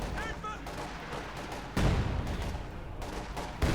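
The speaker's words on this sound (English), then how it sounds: "Another quick barrage there, trying to get that MG34." Artillery barrage in Company of Heroes 2, aimed at an MG34 in a 1v1 match: muffled booming impacts and rumbling blasts, two heavier hits standing out over a dense battle din.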